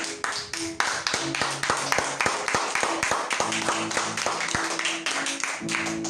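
A church congregation claps along in a steady rhythmic beat during worship, the sharp claps sounding over sustained music tones.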